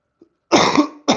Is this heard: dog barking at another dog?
no